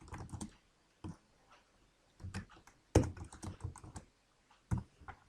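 Keys clatter on a computer keyboard as C++ code is typed, in short irregular bursts of clicks with pauses between them, close and fairly quiet, with no talking.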